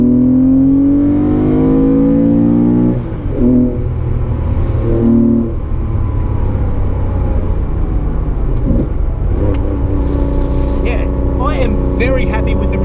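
A Porsche 911 with a new exhaust revs and pulls through its range, rising engine notes stepping up in pitch under someone talking, loud and close.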